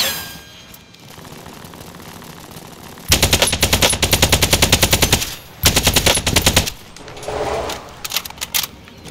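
Loud, close automatic gunfire in a video game, two long rapid bursts separated by a brief pause, followed by quieter clanks and game sounds.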